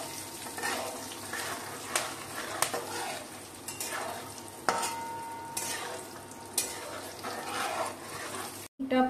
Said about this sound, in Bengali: হাফ চামচ মতো হিং দিয়ে দিচ্ছি, গোটা গরম মশলা দিয়ে দিচ্ছি, তেজপাতাটা দিয়ে দিচ্ছি, একটু নেড়ে নিচ্ছি।